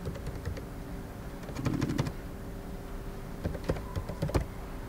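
Someone types names on a computer keyboard in a quiet room with a steady background hum; the key clicks come in short irregular bursts.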